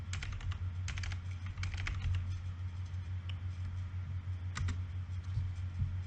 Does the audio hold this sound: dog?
no